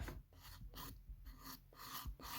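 A 240-grit hand file rasps across a polygel nail in short repeated strokes, about six quiet scratchy passes in quick rhythm, heard close up and alone.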